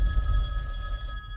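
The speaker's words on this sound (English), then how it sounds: "that phone over there is gonna ring" A telephone rings in a movie trailer: one short, moderately loud burst of steady bell tone with nothing else over it.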